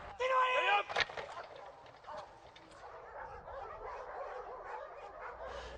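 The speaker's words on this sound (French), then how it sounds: "L'aboiement, c'est de demander au chien de déclencher un aboiement sur un individu" Military working dog of an infantry canine unit giving a few sharp, loud barks and yips at the start, followed by quieter handling noise and background activity.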